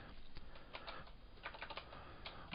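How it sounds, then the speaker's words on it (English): Typing on a computer keyboard to enter a math query, a steady run of quick, close key clicks with irregular bursts and no talking. "and we'll just type"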